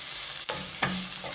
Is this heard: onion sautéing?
yes